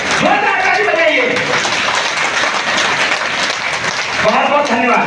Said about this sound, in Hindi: जोरदार ताली बजा के आपका स्वागत करें